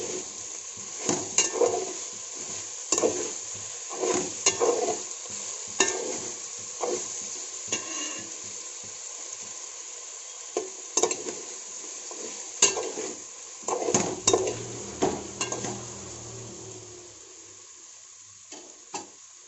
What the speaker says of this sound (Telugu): ఒక 5 నిమిషాల పాటు వేయించుకోవాలండి ఇది.